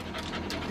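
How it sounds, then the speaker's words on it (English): A dog pants close by in quick, breathy rhythmic puffs over a short burst, loud and alone. "That's my dog."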